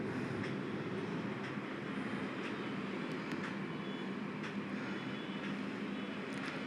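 Steady rumble of a train starting to move from Rayagada station in Odisha, rolling along the tracks, with faint clicks over a continuous low roar and no voices.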